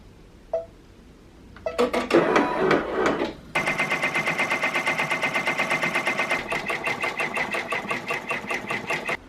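An embroidery machine stitching a design through fabric backed with cutaway stabilizer, running in a steady fast mechanical chatter with a regular pulsing rhythm after a few preliminary clicks and whirs, close and loud.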